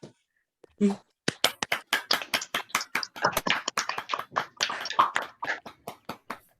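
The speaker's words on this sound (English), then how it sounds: "can you take yourself off mute and clap?" Participants on a video-call meeting unmute and clap together, producing a ragged run of close, crisp claps from several people at once, starting after a brief whispered voice and continuing irregularly to the end.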